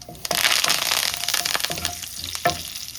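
Loud crackling and sizzling of tempering spices frying in hot oil for brinjal chutney, close up, with a few sharp pops and stirring scrapes.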